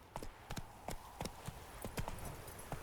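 Roach the horse gallops in The Witcher 3, its hooves thudding in a quick, steady clip-clop rhythm at moderate volume.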